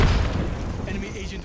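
A frag grenade goes off in Apex Legends, a heavy close boom that decays with a rumbling tail and crackle.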